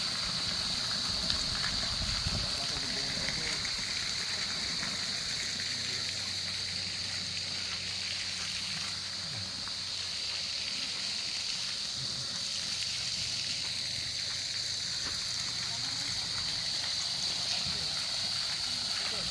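Water laps and trickles steadily in a resort swimming pool, with a constant watery hiss and a pump-like hum underneath, while people talk and call out nearby.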